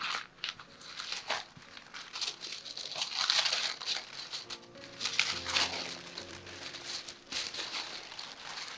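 Sheets of tissue paper crinkle and rustle continuously as they are handled up close for journal making, with soft crackling bursts and brief pauses.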